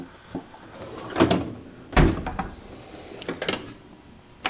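A tool box drawer slides open with a couple of distinct metallic rolls and clunks, close and fairly loud, separated by quiet pauses.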